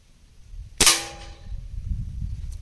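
A single sharp crack comes from a Gamo Speedster or Crosman TR77 air rifle firing a pellet. The report is close and loud, rings briefly, then dies away over low background rumble.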